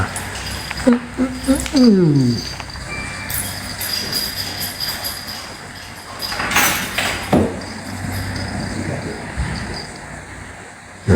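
A door slides open with a scraping rattle and a few clunks inside a home at bedtime, while people talk through much of it.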